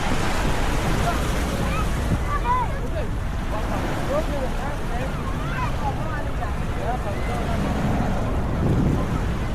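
Sea waves rise and wash up on a beach in Bali, making a loud, continuous surf roar mixed with wind buffeting the microphone, while someone talks over the noise throughout.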